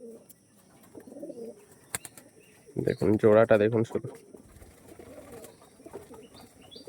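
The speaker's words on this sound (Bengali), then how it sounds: "পালসার বিটের একদম পিওর পায়রা।" Pure Pulsar-bloodline pigeons, a mated pair, coo close by in a short rolling burst near the middle, with softer bird sounds around it and someone speaking over much of the scene.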